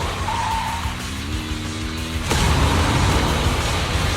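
A car in Zenless Zone Zero engine rising with a sustained tire skid, then a thudding jolt into a louder, rougher rumble of driving, close and loud with no talk.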